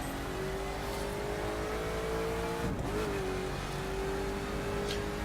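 A Koenigsegg Agera R drifts in the racing game The Crew, its engine holding a steady droning note that dips briefly mid-slide, then settles back, with no speech.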